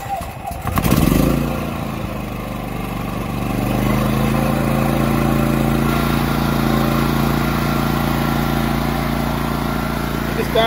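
A Champion 7000-watt inverter generator cranks on its electric start, catches within about a second, then settles into a steady, loud, close engine drone that runs on without a break.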